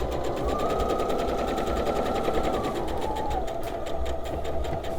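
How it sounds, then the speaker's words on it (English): A sewing machine runs steadily, stitching a scant quarter-inch seam through a quilt block, a rapid even mechanical chatter with a motor hum that continues for several seconds without pause or voices. "I'm going to do that scant 1/4 inch seam right through it"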